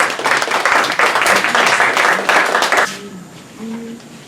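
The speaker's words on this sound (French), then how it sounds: "sous vos applaudissements" Audience at an amateur show applauds after a theatrical piece is announced, a burst of brisk clapping for about three seconds that cuts off abruptly, followed by quieter room sound with a faint voice.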